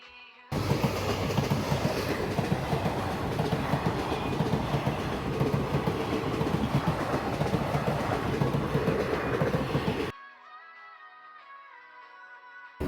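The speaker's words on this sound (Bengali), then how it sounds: "তো ট্রেনের শব্দটা একটু শেয়ার করলাম" A train passes close by, its loud, steady rumble and wheel clatter lasting about ten seconds before cutting away to a much quieter background. No one speaks.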